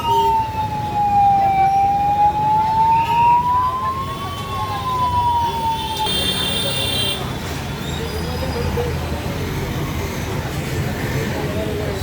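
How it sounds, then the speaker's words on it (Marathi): A fire engine siren wails loudly and steadily at a clothing shop fire in Palghar, its tone sliding slowly, then gives way to rumbling street and crowd noise. "घटनास्थळी त्वरितच अग्निशमन दलाची गाडी पोचलेली आहे"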